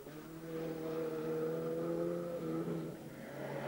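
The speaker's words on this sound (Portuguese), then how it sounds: "O Toyota de Armando Rocha, em ação no decorrer de Joane 1." A Toyota rally car driven by Armando Rocha on the Joane 1 stage of the 1989 Rallye de Vila Nova de Famalicão, its engine holding a steady, strong harmonic drone that dips in pitch near the end, with no talk.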